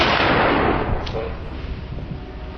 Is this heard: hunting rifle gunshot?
yes